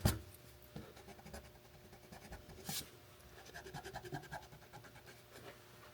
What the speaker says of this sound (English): So we'll erase these marks.